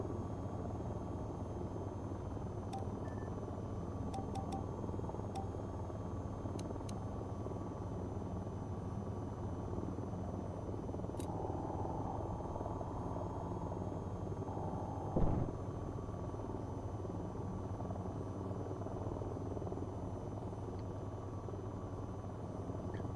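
Aircraft in the VTOL VR flight game coming in to land, a steady droning engine hum held throughout with one brief thump near the end, no talking.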